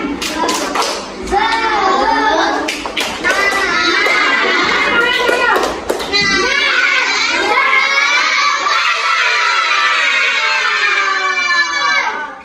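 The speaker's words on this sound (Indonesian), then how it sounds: "Coba mana tepuk semangatnya? Tepuk semangat." A class of children does a rhythmic spirit clap in a classroom: sharp claps in a quick pattern, followed by loud, sustained group shouting and chanting close by.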